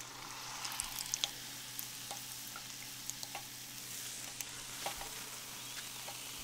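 Onion rings, keto-style, deep frying in hot oil, giving a steady bubbling sizzle with scattered small pops and crackles throughout, close and moderately quiet, with no talking.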